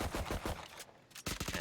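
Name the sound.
gunfire traded through a smoke in Valorant video game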